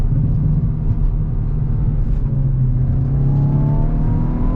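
A 2022 Hyundai i20 N accelerating hard out of a corner, engine note droning loud and steady with a rising whine, heard from inside the car without talk.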